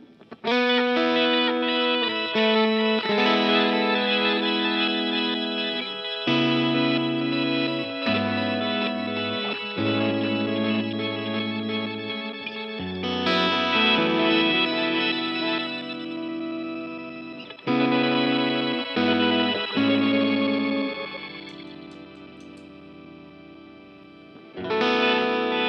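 Electric guitar phrases bloom in reversed swells through an Empress Superdelay pedal, doubled by a shimmering higher octave, sustained and steady for a long stretch without talk.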